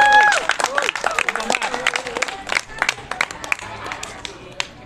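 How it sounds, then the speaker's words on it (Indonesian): Classroom applause for a student group in a physical education lesson on the bridge pose, a burst of lively irregular claps from a small group of students with some voices and cheering mixed in, tapering off toward the end. "Kita kasih tepuk tangan dulu untuk kelompok 3 ya"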